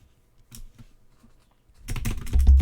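A computer keyboard is typed on with a malfunctioning space bar: sparse scattered key clicks at first, then a dense, louder run of rapid keystrokes ending in heavier thumps, close up with no talk.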